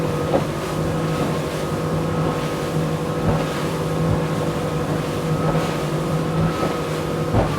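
A Sea Ray SDX 250 outboard motorboat runs at speed through rough water, its engine droning steadily under heavy wind rush, with recurring thumps as the hull slaps the waves. No one talks.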